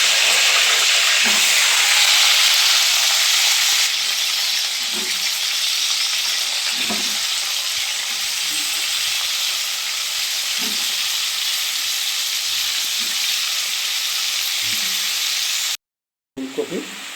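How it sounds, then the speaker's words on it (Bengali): Lightly salted, turmeric-coated cauliflower pieces fry in oil with a steady, loud sizzling hiss throughout, broken by occasional soft clinks and scrapes of stirring, then a brief cut near the end. "এখন আমি এই ফুলকপিগুলোকে ভেজে নেব হালকা"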